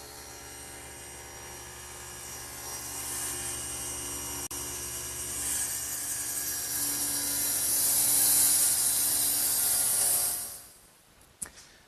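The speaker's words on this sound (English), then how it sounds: "Shut the saw down, lower the blade, and take the piece out." A table saw runs with a steady high whine and hum while cutting wood for a drop leaf table, then spins down near the end and falls quiet, followed by a brief knock as the blade is lowered.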